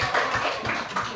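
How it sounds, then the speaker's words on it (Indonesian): Applause at a school gathering, a brief patter of hands clapping at close range, steady and fairly soft for about a second. "kasih tepuk tangan"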